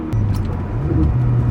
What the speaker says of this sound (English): Rev matching with the V12 is interesting.